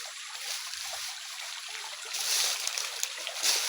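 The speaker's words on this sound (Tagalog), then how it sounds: "May sapa diri guys oh." A small mountain stream trickling and splashing over rocks, a continuous close, even rush of water that swells slightly near the end.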